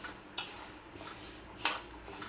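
Urad dal dry-roasting in a metal pan, stirred with a utensil that clinks and scrapes against the pan about every half second over a faint steady hiss, with no talking.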